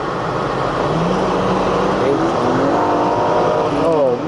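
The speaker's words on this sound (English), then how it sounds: "Oh man, that motor just hums," A Mercedes-Benz W124 station wagon engine hums steadily at close range, with a rising and falling pitch as it revs, loud and continuous throughout.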